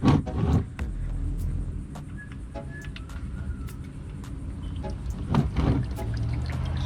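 Front differential oil pours and trickles steadily from the open drain plug hole, a continuous near liquid splatter over a low rumble, with a few faint clinks along the way.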